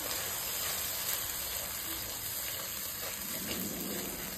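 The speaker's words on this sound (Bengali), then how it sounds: "মশলাটাকে কয়েক সেকেন্ড ভেজে নেব" Spice paste with ground almonds sizzling in a pan while cooking Bangladeshi shahi morog pulao, a steady close hiss of frying without pause throughout.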